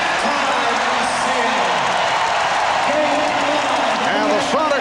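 Arena crowd at the 1996 NBA Finals Game 5, Bulls against SuperSonics, roaring at halftime: a dense, steady wall of cheering and shouting that holds at full loudness throughout, with whistles and yells rising out of the mass.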